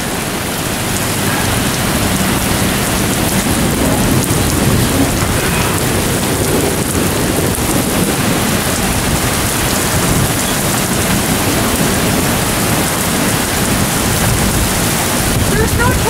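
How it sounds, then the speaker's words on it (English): A severe thunderstorm pours steady heavy rain over the surroundings, a dense constant roar of rainfall with rolling thunder blended into the wash, loud and unbroken throughout with no clear pauses. "Just thunderstorm."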